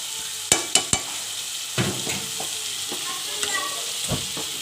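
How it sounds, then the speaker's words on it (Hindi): Marinated chicken liver for chicken tikka kaleji drops into a hot pan with a few sharp clatters, then a steady close sizzle of frying as it is stirred, with occasional soft scrapes and no talking. "अब मैं इसमें सारे जो कलेजी मैंने मैरिनेट करके रखी थी तकरीबन आधे घंटे के लिए"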